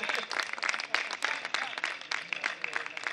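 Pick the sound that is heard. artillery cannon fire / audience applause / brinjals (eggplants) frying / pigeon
audience applause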